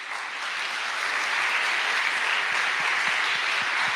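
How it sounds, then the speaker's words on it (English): Audience clapping at a corporate IT conference after a sustainability talk, a broad even wash of many hands heard from a distance, holding steady without voices. "I see that you already are clapping"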